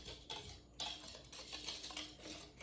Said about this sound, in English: just going to mix this all together.